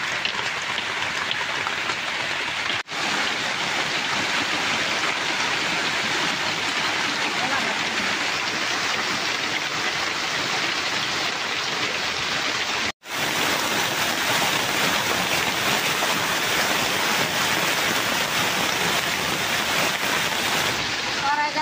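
Steady, dense hiss of rain falling continuously, loud and close, with no voices and only two brief dropouts.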